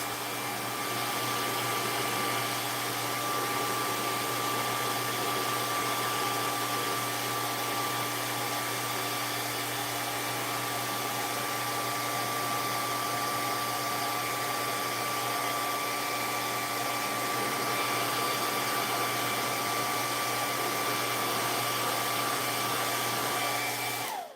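A hair dryer blows steadily for the whole stretch, a loud, constant whooshing hum with no pauses and no voices.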